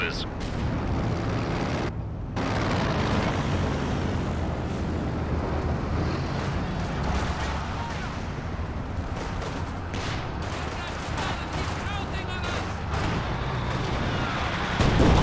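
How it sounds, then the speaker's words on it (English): Anti-tank gun fire and battle noise from a Company of Heroes 2 match, a 6-pounder hammering Axis tanks, runs as a dense, steady roar of shots and explosions throughout, with talk over it. "Vet 3 6-pounder doing some serious damage to these Axis tanks."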